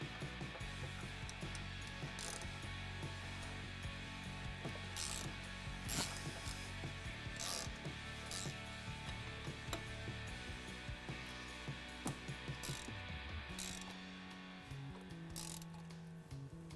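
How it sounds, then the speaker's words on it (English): Ratchet loosening the four T40 bolts that hold the brake pads on a C8 Corvette, rapid clicking pawl strokes in repeated bursts, close and steady throughout with mechanical ringing, no talk. "Now go ahead and break loose the four T40s that hold in the pads."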